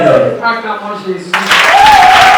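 A church congregation at a prayer gathering in Kinshasa breaks into loud, close clapping and cheering right after a voice speaks, and the applause continues to the end.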